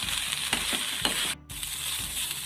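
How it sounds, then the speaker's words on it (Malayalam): Okra, ladies finger, dry-frying in a pan while being stirred, a steady close sizzle with soft scraping strokes and a brief dip where the frying sound drops away for a moment before resuming. "ഞാൻ ഇതുപോലെ രണ്ട് മിനിറ്റ് ഇളക്കിയതേ ഉള്ളൂ"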